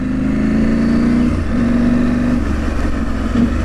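A KTM motorcycle engine revving loudly and steadily up close, with a continuous mid-range drone that rises and holds in pitch across several short blips, no voices present.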